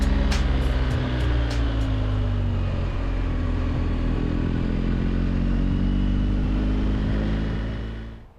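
A 2021 BMW R1250GS boxer engine rumbles loud and close, accelerating through gears with a throbbing, clattery tone before fading out at the end.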